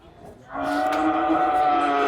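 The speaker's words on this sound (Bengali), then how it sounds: "গরু দেখেন গরু" A bull or cow at a busy cattle market lets out one long, loud, sustained moo that starts partway through and holds to the end, with faint crowd murmur beneath.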